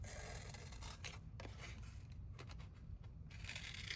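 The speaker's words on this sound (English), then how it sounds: "I can go ahead and fussy cut this out too." Scissors fussy cutting around a small paper Burger King piece, close and quiet, with a steady run of soft snipping and rustling paper, brief pauses between cuts.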